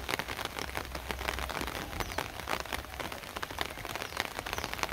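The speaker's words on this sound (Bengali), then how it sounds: "বৃষ্টির মধ্যে টাপর টুপর বৃষ্টির মধ্যে" Steady rain patters densely onto water, a constant hiss of countless drops with no voices.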